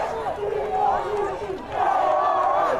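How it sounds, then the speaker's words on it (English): A high school football crowd in the stands cheers and yells, a broad sustained roar that swells again after a brief dip, heard at a distance. "Now you got the crowd back into it."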